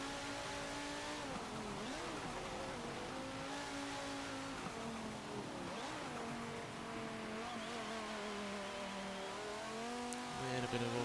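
A 2011 Audi RS 3 Sportback engine in Forza Motorsport 7 drones steadily at sustained load, its pitch rising and dipping through gear changes and corners, close and continuous with faint tire noise.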